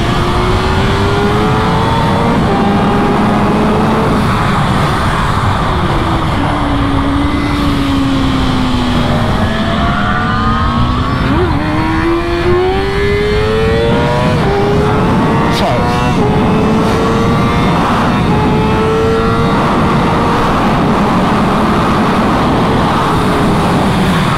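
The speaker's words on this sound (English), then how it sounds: "Hands up on the Goldwing GL 1800 Doing some track testing" Honda Goldwing GL1800 motorcycle ridden hard on a track, its engine loud and close throughout, pitch rising and falling steadily through shifts and corners, with strong wind rush over the whole run.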